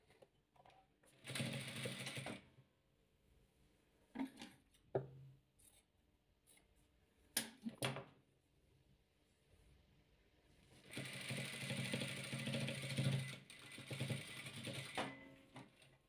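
A sewing machine stitches patchwork fabric strips in short quiet bursts, a few separate runs early on and a longer steady stretch of stitching near the end, with faint handling noises between.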